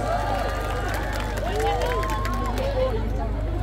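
A live concert crowd applauds the bassist of a band in Tegal, 2024, producing a dense, steady wash of clapping and crowd noise that runs for the whole stretch, with a voice speaking over it.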